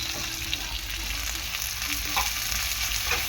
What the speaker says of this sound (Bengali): এবার এই দেখো আমি নাড়াচাড়া করে নিচ্ছি টমেটোটা দিয়ে।